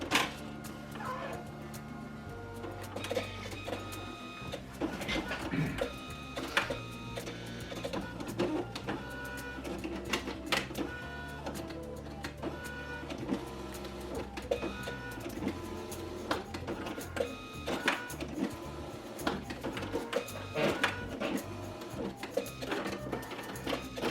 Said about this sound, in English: I watch the sheet going through the printer